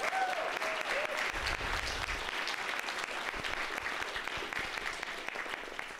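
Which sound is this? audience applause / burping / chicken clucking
audience applause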